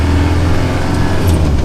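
A 26-year-old Land Rover Defender Tdi diesel engine drones steadily while driving, a loud, close, low rumble heard from inside the cabin with a constant road-noise hum.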